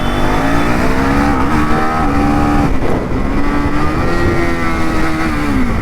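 A Husqvarna Svartpilen 401 motorcycle engine while riding, a loud steady drone close to the mic that rises and dips slightly in pitch as the throttle shifts, with wind rush over it.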